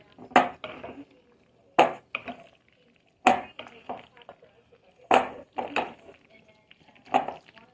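Hot dog burger ingredients are mixed by hand in a bowl: five separate bursts of clinking and scraping against the dish come at a slow, uneven pace, with quiet gaps between them.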